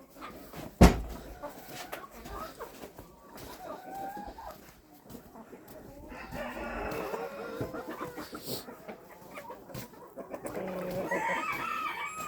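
Backyard mixed-breed hens clucking alongside a young rooster, scattered calls rising in the second half over a sharp bang near the start, with a person talking at times.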